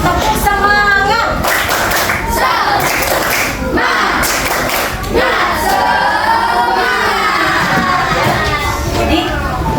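Schoolchildren in an Indonesian classroom clap in unison in a rhythmic spirit clap, loud and dense, mixed with young voices and chanting throughout.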